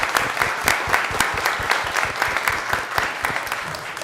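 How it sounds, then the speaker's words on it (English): Steady applause from a city council meeting audience for a group of students, dense and continuous with crisp individual claps throughout, fairly close and even in volume. "can we get one more round of applause for our students?"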